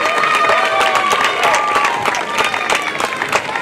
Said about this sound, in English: Let's give them all a really big round of applause.